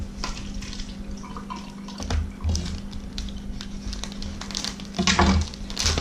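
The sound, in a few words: water draining from firm tofu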